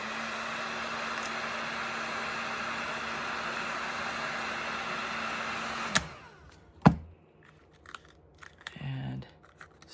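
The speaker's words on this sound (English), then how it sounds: "give it a heat gun." A heat gun blowing steady, hissing air onto a resin-coated jar for about six seconds, then cutting off, followed by a few sharp clicks and faint handling noises.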